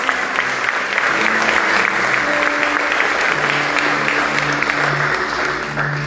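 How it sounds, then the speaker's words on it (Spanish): A church congregation applauds together in steady, sustained clapping, with voices calling out and singing tones mixed in throughout. "Dale un aplauso al Señor."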